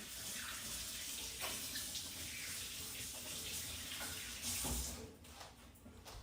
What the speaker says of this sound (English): I'll just rinse off my hands.